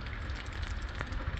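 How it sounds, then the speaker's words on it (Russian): Rain falls steadily in a village garden, a dense even patter on surfaces with a low rumbling backdrop, continuous and fairly loud throughout. "Ура, ура, дождь."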